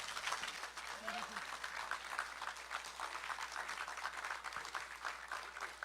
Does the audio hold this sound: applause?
yes